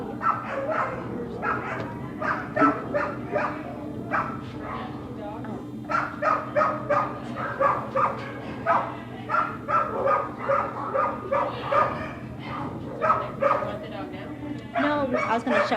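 Adoptable shelter dogs barking in repeated bursts of loud yips and barks with some whimpering, sounding close and continuing throughout, with people talking intermittently underneath.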